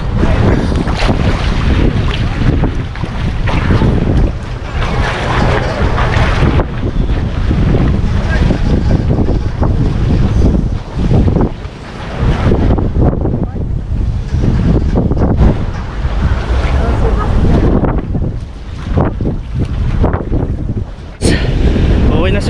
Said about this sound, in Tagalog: lumalakas lalo yung hangin eh